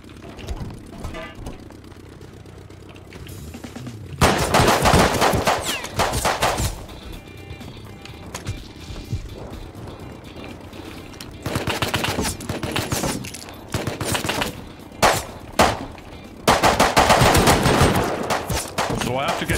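Gunfire in the video game Rust, several loud bursts of rapid automatic shots from multiple shooters with quieter gaps between, close and dense, with faint game ambience underneath.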